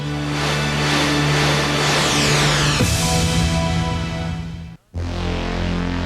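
Dodge Ram pickup truck engine in a 1996 TV commercial, a loud continuous roar with rising revving tones that cuts out briefly near the end and then returns just as strongly.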